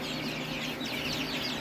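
Week-old barnyard mix chicks cheeping in a brief, soft chorus of high peeps over a steady background hum.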